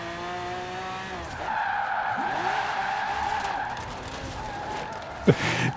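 A Lamborghini Veneno in the racing game Forza Horizon 4 revs and skids, engine tones climbing and dropping with tire squeal, moderately loud, ending on a sharp bump.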